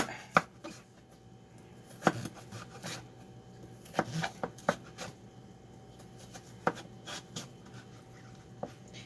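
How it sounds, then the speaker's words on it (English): A knife slices zucchini at an angle on a cutting board, giving a series of sharp, close taps and thuds at an uneven pace over a quiet background, with no talk. "I'm just going to kind of cut mine at an angle. And I'm just going to slice them up."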